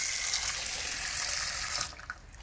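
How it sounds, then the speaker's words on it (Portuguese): Water poured from a tap into a cooking pot holding sausages, a steady close rushing stream that cuts off near the end, leaving a few drips and soft clanks. "Agora eu vou colocar água aqui."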